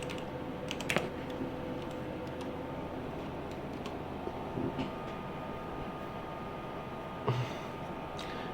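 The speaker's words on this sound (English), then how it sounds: "So I'm going to type in my password." Password being typed on a computer keyboard at a PC, a few scattered key clicks and small bursts at a low level over steady room hum, no talking.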